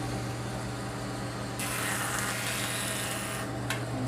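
A power tool hums steadily as rough wood is run through it to shave off about a sixteenth of an inch. A louder, rasping cutting noise joins the hum midway and runs for a couple of seconds before easing off.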